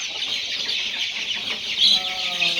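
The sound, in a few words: Peruvidai chicken chicks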